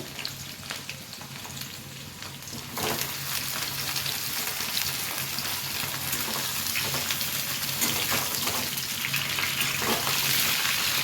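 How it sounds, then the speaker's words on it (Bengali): Potatoes and cauliflower sizzle in hot oil for vegetable khichuri, a steady crackling fry that grows louder partway through, likely as the cauliflower goes in, and continues up close. "আলুগুলো যখন একটু ভাজা হয়ে যাবে তখন আমি দিয়ে দিচ্ছি ফুলকপিটা।"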